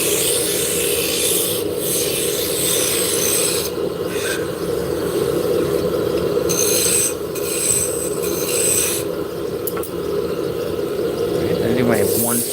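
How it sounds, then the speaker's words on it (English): A wood lathe spins a drop spindle blank with a steady, loud rasping hum while a spindle gouge scrapes against the wood in shifting bursts. "So we're going to switch from our roughing gouge to our spindle gouge"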